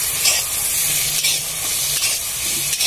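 Garlic paste frying with browned onions in a pan, a steady close, loud sizzle with a faint stirring scrape, no talking.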